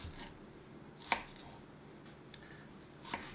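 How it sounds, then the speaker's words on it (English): A knife chops scallions into smaller pieces on a board, making two sharp, distinct chops over a quiet background. "I'm gonna go ahead and just cut these into smaller pieces"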